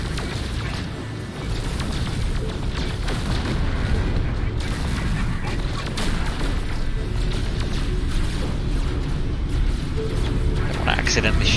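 Starship weapons in No Man's Sky firing repeatedly at enemy ships in a space dogfight, a steady barrage of booming shots and blasts with a voice talking over them.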